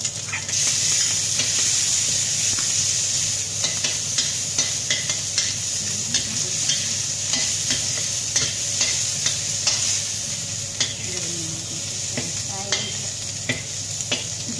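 Shrimp stir-frying in a pan for pineapple fried rice, a loud steady sizzle with frequent spatula scrapes and clacks throughout, close and without voices.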